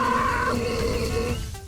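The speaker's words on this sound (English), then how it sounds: "can you burp that well?" A child burps loudly after drinking fizzy drinks, producing one long, rumbling, throaty belch that carries on for more than a second, close and strong.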